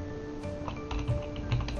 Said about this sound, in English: so we're gonna type it here